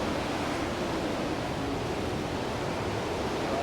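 Steady, faint rushing of water flowing over rocks at Suryakund in Gangotri, Uttarakhand, a continuous broadband roar with no talk.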